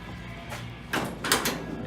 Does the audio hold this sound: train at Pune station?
no